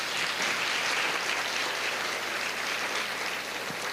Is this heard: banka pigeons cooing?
no